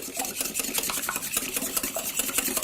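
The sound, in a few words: mixing cupcake batter with eggs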